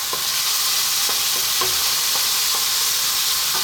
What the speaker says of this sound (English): Turmeric, chili, cumin, coriander. A quick mix.